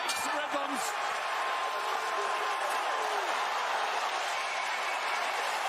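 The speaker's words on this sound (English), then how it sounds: "What a crowd. What an atmosphere here in Cleveland." Dense, steady crowd roar with cheering and applause fills a boxing arena in Cleveland during a Jake Paul versus Tyron Woodley fight, loud and continuous throughout.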